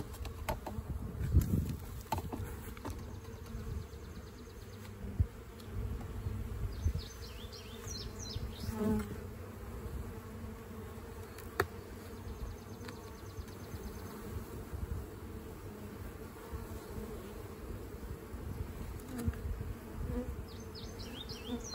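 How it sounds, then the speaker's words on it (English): Honeybees buzz in a thick, steady drone around open hives during a honey super inspection, close and continuous, with occasional rustling and knocks as the boxes are handled. "There's a lot of bees in there."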